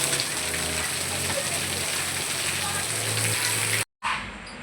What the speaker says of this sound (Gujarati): વરસાદ બરાબર ચાલુ થઈ ગયો